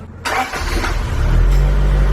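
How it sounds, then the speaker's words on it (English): A vintage JDM car engine cranks over and catches after a quiet moment, then settles into a rough, rumbling idle close by, with no talking. "He just told me to start the engine"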